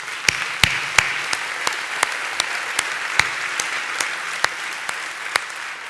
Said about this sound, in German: An unsere drei Gäste einen großen Applaus.